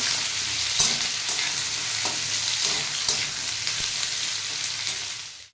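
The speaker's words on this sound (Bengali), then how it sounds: "পটলগুলো একটু ভেজে নিয়ে" Pointed gourd (potol) pieces fry in hot oil in a pan for a home-style mixed vegetable dish, with a loud, steady close sizzle broken by light scraping stirs throughout and no voices.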